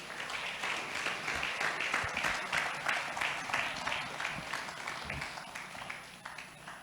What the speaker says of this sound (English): I think we should keep applauding till she gets here.